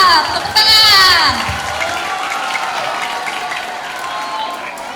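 Audience at a school student council candidate debate applauding and cheering together, a loud broad wash of clapping with some voices and shouts on top, steady throughout.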